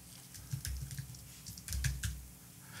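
A file name is typed on a computer keyboard as two short, close clusters of quiet key clicks with a brief pause between them.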